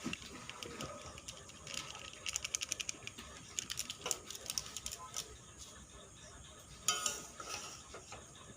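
Pasta is tossed with Maggi masala and fried cauliflower in a pan, the spoon clicking and scraping against the metal in quick irregular bursts, fairly close, with a louder clatter near the end.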